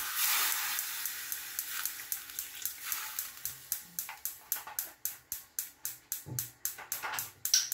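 Chicken simmers in Sprite with a soft bubbling hiss, broken by quick sizzling pops that come more often as the seconds pass, quiet and close with no voices.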